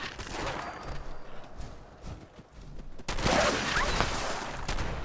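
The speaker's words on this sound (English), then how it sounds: "Shotgun, really exceptionally good for mongrels" Shotgun blasts in Fallout 76 while fighting wild mongrels in a lower-level area, loud bursts over game ambience, heaviest and densest in the second half.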